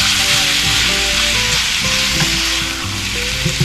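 Chopped onions sizzle and fry together with ground beef in a hot pan, a loud, steady crackle with occasional stirring scrapes and no voices.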